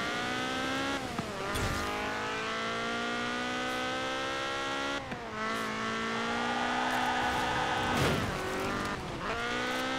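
A rear-wheel-drive A-class car in Forza Horizon 4 at a winter festival, its engine revving steadily and loud throughout, pitch dipping at a few gear shifts, with some tire noise.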